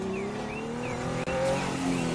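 Video game car in Teardown with a struggling, barely running engine: a steady low droning hum with faint pitch slides, one brief dropout partway through, no talk.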